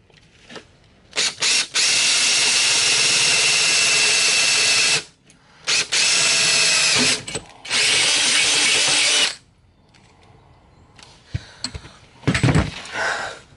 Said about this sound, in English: There's the pilot hole.